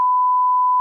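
A single steady censor bleep, a pure electronic tone held for just under a second, loud and alone with no other sound around it.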